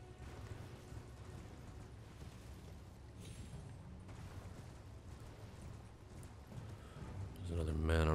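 Steady clip-clop of horse hooves galloping in the video game Elden Ring under continuous game music and noise, growing louder near the end as a new sound swells in.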